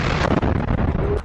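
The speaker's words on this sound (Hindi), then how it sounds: "अल कासिम के लड़ाकों ने इस टैंक में रफा में Yasin 105 anti tank RPG fire किए जिसमें बहुत बड़ा धमाका होता है" A Yasin 105 anti-tank RPG blast hitting a Merkava tank in Rafah: a single loud, heavy booming explosion with rumbling, crackling debris, heard close and alone.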